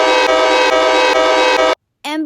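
An MBTA railroad locomotive horn sounded as an alarm blares loud and close, a sustained multi-tone chord with slight pulsing that cuts off abruptly, followed after a short silence by a brief second blast.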